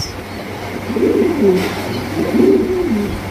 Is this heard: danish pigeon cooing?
yes